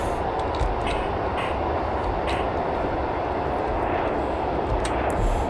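Class 142 Pacer diesel railbus in Train Simulator, rolling over jointed track with a steady low rumble and faint, irregular clicks from the rail joints under the running noise.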